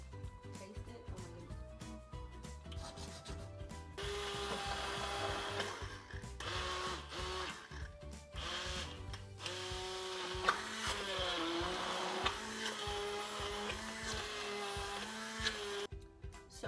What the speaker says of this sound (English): And I'm gonna blend it.